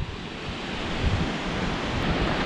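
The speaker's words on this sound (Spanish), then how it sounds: "Primera cascadini del año. Miren qué piscinita aquí divina" A waterfall pours into a river pool in a forest with rock walls, a steady, loud broadband rush of falling water that holds an even level from start to end with no voices.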